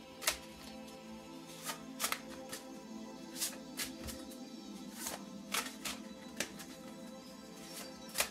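Tarot cards being shuffled by hand before a draw, a soft papery riffle with sharp slapping bursts roughly every half second over a low steady background, close and fairly quiet.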